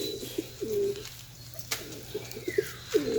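Pigeons coo in a hot loft, soft repeated throaty coos coming in short bursts at close range, with faint background noise and no talking.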